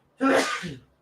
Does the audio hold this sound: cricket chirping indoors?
no